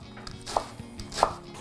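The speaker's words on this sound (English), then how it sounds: "take the couple of minutes that it takes to dice your onion" An onion being diced with a kitchen knife on a cutting board, two sharp distinct chops about two-thirds of a second apart over faint background rustle, close up with no talking.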